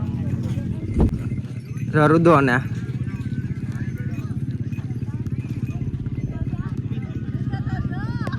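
Camels walk through the Rann of Kutch desert in a steady, even rhythm of footfalls, while a person talks over them and a short louder burst of sound rises early on.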